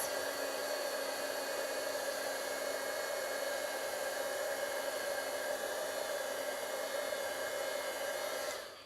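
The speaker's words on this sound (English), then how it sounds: "So this is a heat tool. You can use a hair dryer." A Stampin' Up heat tool blows hot air in a steady, even whoosh over watercolor work, loud and close, running without a break until it cuts off at the very end.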